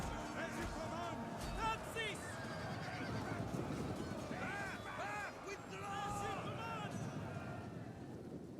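Cavalry horses in the Total War: Rome II video game neigh and whinny again and again over a busy battle din, with hoofbeats and someone talking underneath throughout.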